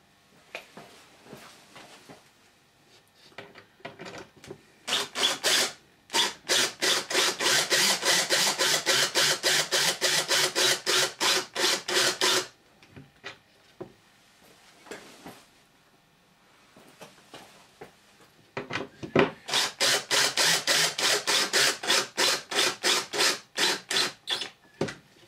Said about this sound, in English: we tighten the screw up. And this time I'll actually use my drill driver.